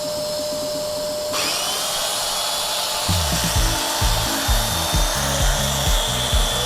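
An electric dowel jointer switches on and cuts into wood, giving a steady high motor whine that starts abruptly, then a pulsing, chattering cut with repeated bursts as the blade is pressed in, loud and close.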